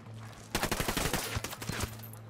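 Gunfire from a Ghost Recon firefight, a rapid burst of closely spaced shots rattling off for about a second and a half, with a few trailing cracks over a low steady hum.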